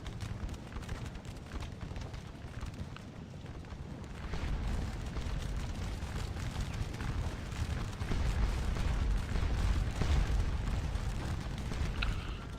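Cannon and artillery fire in the Waterloo strategy game Scourge of War rumble continuously, with deep booms and blasts layering into a dense, building roar across the battlefield.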